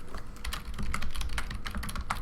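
Typing on a computer keyboard while writing a WordPress post, a steady patter of soft, close key clicks with a few louder taps over faint room noise, no voices.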